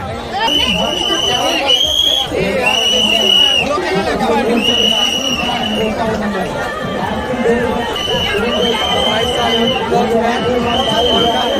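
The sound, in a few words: crowd chatter at a busy temple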